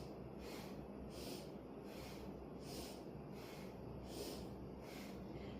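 Rapid forceful exhales in a vinyasa yoga breathing drill, a steady train of about eight sharp nasal bursts, one roughly every two-thirds of a second, close and quiet over a low background hum, with no talk.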